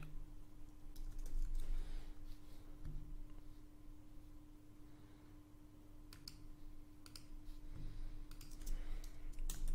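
Typing on a computer keyboard while building a web page: quiet, scattered bursts of key clicks, some quick runs and some pauses, over a faint steady hum.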